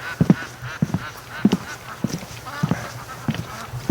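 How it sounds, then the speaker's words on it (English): Ducks calling near a lakeside dock, a run of short repeated honking quacks, fairly close and clear, in bursts over faint background noise. "Oh yeah, we got ducks everywhere."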